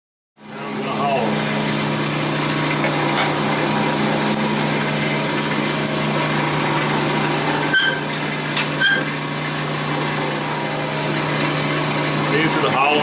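Hollowing a wooden baby rattle on a woodturning lathe gives a steady, continuous motor whine with a broad whirring hum and scraping cutting noise, and a couple of brief sharper ticks midway.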